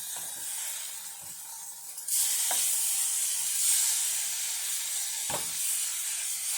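Salmon fillet frying in butter in a pan after being flipped, a low sizzle that swells into a louder, steady hiss midway, with a few sharp clinks of utensils against the pan.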